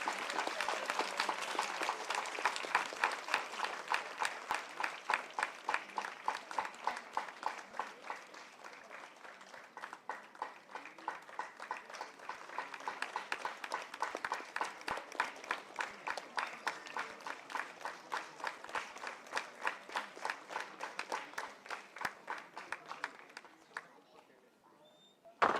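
Audience at the Seva Sambhrama Bengaluru 2022 event applauding: fairly faint, steady massed clapping with a quick, even rhythm that carries on for about 25 seconds, easing near the end before a final sharp sound.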